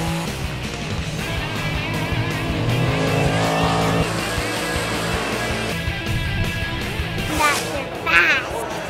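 Buick-powered race cars at the GS Nationals drag strip in Bowling Green, Kentucky, with loud engine roar and revving throughout, a brief tire squeal near the end, and voices talking over the engines.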